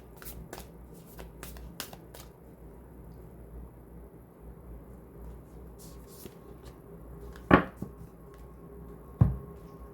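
Tarot cards being shuffled by hand in a quiet room, a soft papery riffle with a few sharp flicks and two louder taps near the end, no talking.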